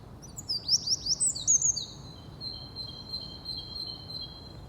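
On a morning walk in London, birds chirp and tweet in quick, high bursts early on, then settle into thin sustained calls over a low outdoor rumble.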